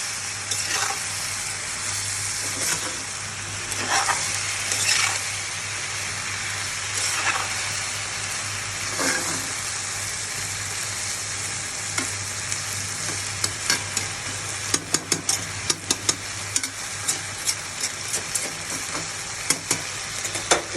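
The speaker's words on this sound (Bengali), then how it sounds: "একটু নাড়াচাড়া দিয়ে যাতে ধনে পাতায় ঘ্রাণটা সব জায়গায় ছড়িয়ে যায় আর টমেটোটাও গলে যাবে" Tomato, coriander leaves and egg fry in a pan with a steady, close sizzle, while a spatula stirs and scrapes in repeated strokes and sharp clicks grow more frequent toward the end; nobody speaks.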